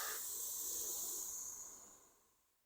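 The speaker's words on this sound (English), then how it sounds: "I'm just going to get a mist coat. Very light." Aerosol spray paint hisses as a light mist coat goes onto a Millennium Falcon scale model, one steady burst that tapers off over a couple of seconds, close and alone.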